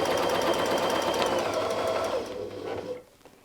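Sewing machine stitching lines through a quilt, a fast steady mechanical whir with a pause and restart, close and loud until it stops near the end.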